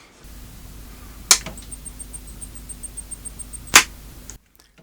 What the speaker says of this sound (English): That's the sound of a distressed power supply.